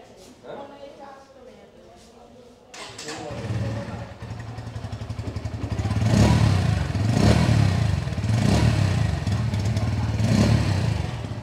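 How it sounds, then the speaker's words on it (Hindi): A Bajaj Pulsar N150 motorcycle starts up after a short stretch of talk, then idles and revs repeatedly with a throaty exhaust note, close and loud, with speech continuing over the engine. "अब आपको सुना देता हूँ N150 का साउंड।"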